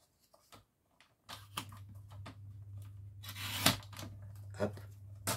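Scissors snip and slice through pieces of material being cut to size for a custom-made picture frame, a few close crisp cuts with soft rustling between them, no talking.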